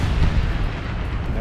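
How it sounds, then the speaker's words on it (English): A missile launched in the War Thunder combat game, a loud, dense rushing blast and roar filling the whole moment with heavy low-end rumble, no talk over it. "I'm shooting a missile at this guy"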